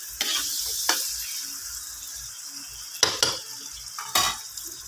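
Chicken gizzards being stir-fried for chop suey: a soft sizzle in the pan broken by several sharp scrapes and clinks of a utensil stirring, close by, with no voices.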